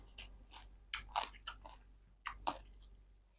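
Crunchy food being bitten and chewed up close: a series of sharp, crisp crunches in uneven bursts, a few louder bites standing out, with no talking.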